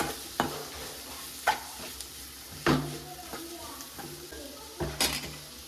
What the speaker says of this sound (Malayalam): അപ്പോൾ അത് നല്ലോണം വഴറ്റിയെടുക്കുക